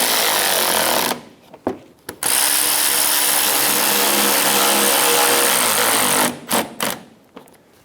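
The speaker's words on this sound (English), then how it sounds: "Install the bottom 2 screws for the front fender liner." A power tool drives the bottom screws of the front fender liner on a 2012–2020 Chevrolet Sonic 1.8L L4 during radiator replacement, with one long, loud, steady whir followed by a few short bursts near the end.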